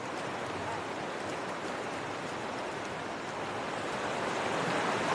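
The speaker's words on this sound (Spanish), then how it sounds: "este río de montaña atraviesa el valle con abundante caudal" A mountain river with abundant flow runs through a valley in Albania, giving a steady, dense rushing of water that holds at an even level throughout and swells slightly near the end, with no voices.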